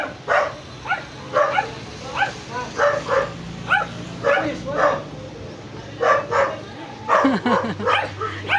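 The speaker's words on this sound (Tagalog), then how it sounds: "Maraming aso." Many dogs bark in a repeated, overlapping chorus of short yaps and woofs at moderate distance, with some whimpering mixed in and a steady low hum underneath.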